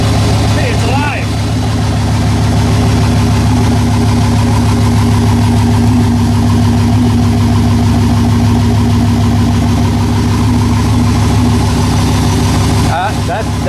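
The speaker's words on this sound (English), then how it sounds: "And just idles like a champ." Turbo LS-powered burnout truck with a neglected, rusted exhaust idling steadily up close, a deep even rumble with faint voices briefly over it at the start and end.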